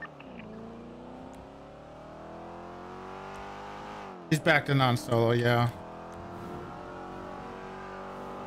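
Car engine in the video game GTA, a steady low drone that rises briefly into a few loud revs before settling back to idle, with someone talking over it.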